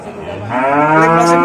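A cow moos loudly and close at a livestock market, one sustained low call rising partway through.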